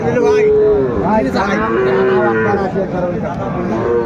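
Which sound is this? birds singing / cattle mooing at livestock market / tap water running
cattle mooing at livestock market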